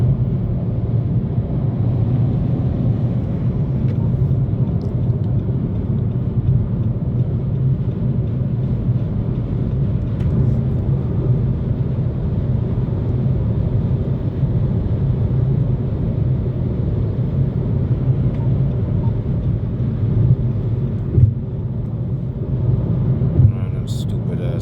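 A rental car being driven makes a steady, loud low road and engine rumble from inside the cabin, unbroken for the whole stretch apart from a couple of small knocks near the end.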